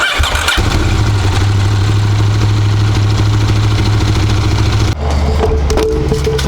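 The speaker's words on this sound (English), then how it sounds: "you can spin up your clutch with this cover off if you want to have a look at how everything is" A KTM 890 Rally motorcycle engine runs with its clutch cover removed, a steady loud idle drone with a throbbing low tone that shifts in pitch near the end, close up and with no talk.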